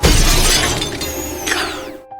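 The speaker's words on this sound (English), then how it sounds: "It turns out to be a pigeon that broke the glass and rushed in." A pigeon crashes through a glass window, a loud sharp shatter at the start followed by falling glass that tinkles and rings, then fades into quiet.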